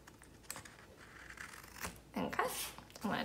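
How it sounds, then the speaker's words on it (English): Scissors snip through paper while corners are trimmed into small triangles for a ladybug collage, giving a few short crisp cuts with rustling between them, close by, mixed with quiet talk. "if you take your scissors and you cut the corners off to make little triangles"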